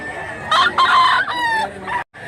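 A rooster crows once, loud and close, a long strained cock-a-doodle-doo that ends abruptly.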